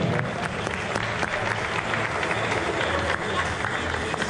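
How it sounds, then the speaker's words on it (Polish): An indoor crowd at a New Year's hall tournament closing ceremony applauds the sappers team, a loud, continuous burst of clapping with scattered individual claps and some background chatter mixed in. "Brawa dla saperów, proszę Państwa."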